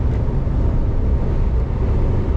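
Strong wind gusting against the microphone while cycling, a dense low roaring buffet that stays loud and steady throughout, with no voices.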